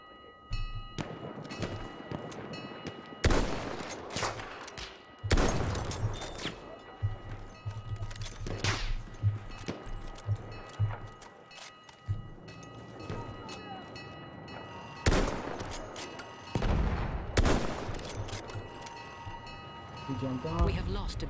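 Machine-gun and rifle fire in a Battlefield 1 multiplayer match, bursts of sharp shots and thuds scattered across the scene, some loud and close, others more distant, with game ambience and voices in between.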